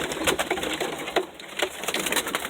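Show pigeons, Birmingham Rollers and homing pigeons cooing in a loft, soft repeated coos and wing flutters over a steady rushing background, fairly close.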